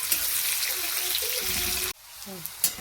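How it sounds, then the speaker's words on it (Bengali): Chopped onion frying in a pan for a lentil dish with pumpkin greens, a steady loud sizzle that cuts off abruptly partway, followed by quieter crackle and a brief clink. "পেঁয়াজটা ভাজা হয়ে গেছে"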